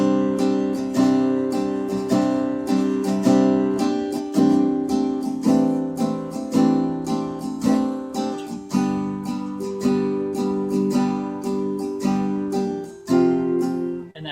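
Acoustic guitar strumming the chords of a song in a steady half-measure pattern, with loud, even rhythmic strokes and ringing chords throughout, no voice.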